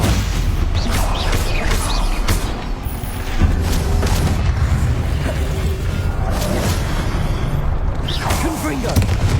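Confringo blasting spells exploding in a Harry Potter video game: a continuous barrage of booms, bursts and whooshes, loud and dense with scattered sharp impacts throughout.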